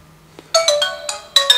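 A Nokia 105 handset plays a ringtone: a bright, close electronic melody of several clear notes, loud and alone, beginning after a short quiet lead-in.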